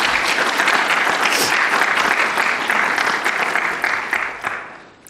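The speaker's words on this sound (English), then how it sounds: "Can we give them a round of applause," A public health ethics forum audience applauds in a dense, sustained wash of clapping that holds steady for several seconds before tapering off near the end.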